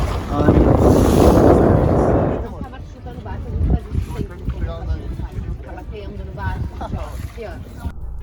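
A sailboat moving across warm water in strong wind, with steady wind buffeting and water rush that is loud at first, then eases while a person talks over it.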